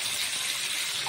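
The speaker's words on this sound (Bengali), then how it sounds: "মাথাটা খুব ভালো করে ভাজা এপিট ওপিট একটু হয়ে গেলে" A hilsa fish head frying in hot oil, giving a continuous, even sizzling hiss close by and alone.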